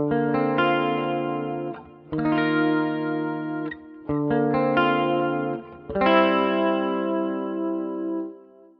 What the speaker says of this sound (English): where I've chosen to get a little bit of a chorused vibe for those big clean chords